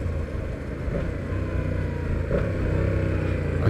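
A Yamaha MT motorcycle with an electronic throttle runs up close in a steady, loud, deep engine rumble, with a few faint crackles from the exhaust and no talking.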